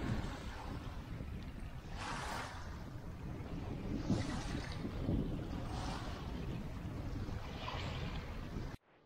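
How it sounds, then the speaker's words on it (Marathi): Waves lap at the lake shore of Dhom Dam near Wai, Satara, at a night campsite, rising in soft swells about every two seconds under constant heavy wind rumble. "इकडे पाणी आहे, लाटा कशा आवाज करत आहेत"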